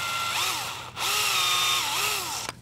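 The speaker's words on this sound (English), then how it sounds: "I wanna drill a hole through it and chuck it up in my drill to make a mini lathe" A power drill spins a bolt chucked up as a mini lathe, its motor whining in a steady rising and falling pitch with a short pause midway and a brief click near the end.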